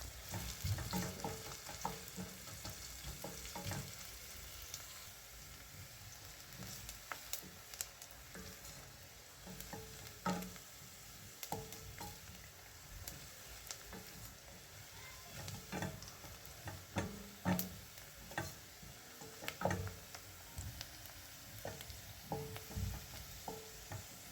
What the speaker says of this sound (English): we're just going to stir that up until we achieve the color that we want on the garlic